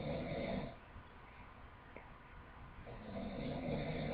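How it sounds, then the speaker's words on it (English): A person snores in slow, faint cycles, a rough rasping inhale swelling then fading into quiet before the next breath builds, heard close and alone. "That's their snoring."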